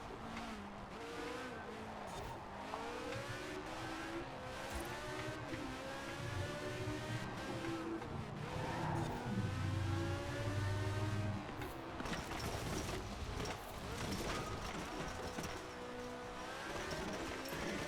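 Maserati racing around a track in a video game, engine revving steadily with shifting pitch and occasional tire squeal, continuous and close throughout.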